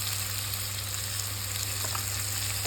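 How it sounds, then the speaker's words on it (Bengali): Plantain slices fry in hot oil in a home kitchen, giving a steady, even sizzle with a low hum underneath. It stays close and constant throughout, with no voices. "কলাগুলো একটু ভেজে নিই।"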